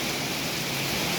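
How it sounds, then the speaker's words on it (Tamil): Steady rain pours down on temple grounds lined with trees, a dense, even hiss of falling water with no breaks. "மழை பெய்து கொண்டு இருக்கின்றது."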